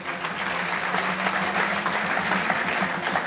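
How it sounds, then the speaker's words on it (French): An audience at a table tennis match applauds steadily, with dense, even clapping filling the whole moment at a fairly close distance. "On l'applaudit quand même, merci."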